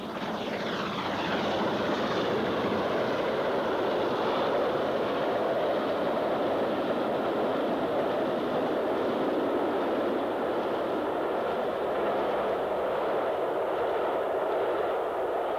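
Castle-class steam locomotive 4079 Pendennis Castle hauls a train north of Banbury up Capreedy Bank, a steady, loud rushing roar of train and exhaust that holds throughout with no voices.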